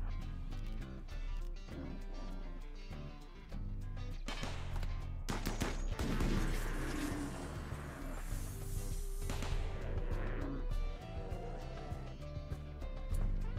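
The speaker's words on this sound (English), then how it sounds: "Spin up the mini turret." A mini turret fires in the RimWorld video game, with fast, rapid shots rising to a dense stretch midway, set against a busy wash of game music and effects.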